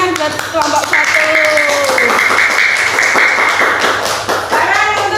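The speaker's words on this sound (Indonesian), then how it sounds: "Tepuk tangan buat kelompok 1." Children clap together in a classroom to cheer a group, with young voices calling and chanting over the brisk, sustained clapping.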